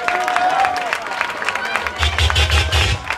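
Audience at the 1st Annual Kiki Scene Awards ball clapping and cheering for the iconic Devo, a dense crowd roar with scattered claps and whoops that swells louder in the second half, with a brief voice early on.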